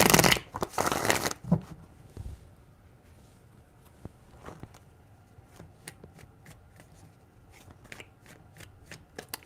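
Tarot cards being shuffled in a few quick, crisp riffling bursts up close, followed by scattered light taps and card flicks.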